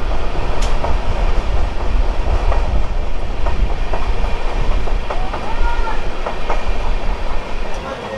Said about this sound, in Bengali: হাওড়া থেকে দীঘা যেতে আমাদের এই তাম্রলিপ্ত এক্সপ্রেস ট্রেন